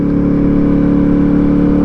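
A motorcycle's exhaust drones steadily through a helmet-mounted mic on a ride over Cottonwood Pass. The low engine note stays loud and constant, with a smooth even hum and no talk.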